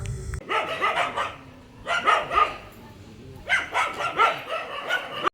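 Dogs barking and snarling in a fight, sounding in three loud clusters of rapid barks and yelps with brief pauses between, fairly close by and with no talking.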